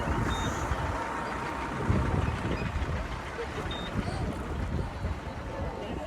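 A bus pulling away on a road between Mumbai and the Konkan: a low engine rumble with a faint high beep or two, and voices of people speaking nearby.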